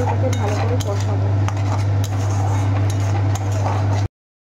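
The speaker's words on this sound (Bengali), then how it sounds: "আস্তে আস্তে এটাকে ভালো করে কষাবো।" A spoon scrapes and clatters in a pan as turmeric and green chilli paste spice mix is slowly sautéed, with steady clinks close by over a constant low hum.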